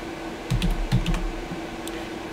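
A handful of soft, quick keystrokes on a computer keyboard tap out in a short burst, close and fairly quiet against a low steady hum.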